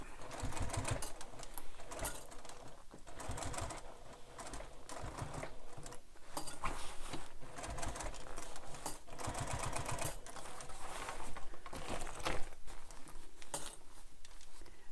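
A sewing machine stitches a seam on a Bethany Beach bag in a steady run of rapid mechanical clatter, pausing briefly now and then before resuming, close and fairly loud.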